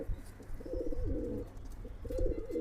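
Young Pakistani blue-tailed running pigeons coo in soft, repeated rolling phrases close by, with faint rustling around them.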